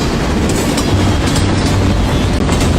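A train rolls through with steady rumbling and rail noise, loud and continuous for the whole stretch, with no voices over it.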